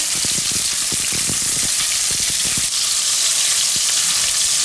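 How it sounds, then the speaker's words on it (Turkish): Beef sears in hot oil in a pan, a loud steady sizzle and crackle with rapid spitting pops close up, no voices. "Dışını hafif yakıp içindeki suyun etin içinde kalmasını sağlayan bir yöntem."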